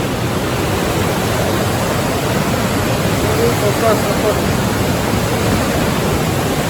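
Fast-flowing river water rushes loudly near a gurdwara at Manikaran Sahib in Kullu, a steady, dense roar close by that continues unbroken throughout.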